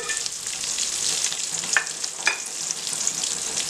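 Chopped big onions frying in oil with chana dal and urad dal for a tomato kulambu, giving a loud, steady close sizzle with a few sharp crackles and stirring scrapes, no voices.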